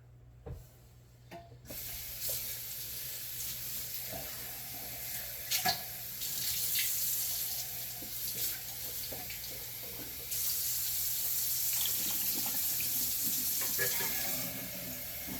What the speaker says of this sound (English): We'll rinse it out while we add water.